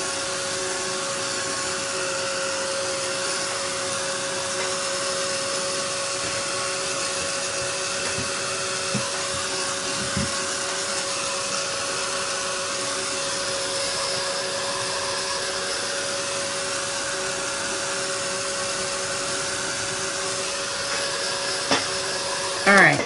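A hair dryer blows on watercolor brush pen ink, a steady, fairly loud whirring rush that runs without a break for over twenty seconds, with no talking over it.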